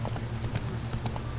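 A horse's hooves clip-clop at a steady trot in The Witcher 3, evenly spaced strikes over a constant low rumble of movement, close and clear with no talking.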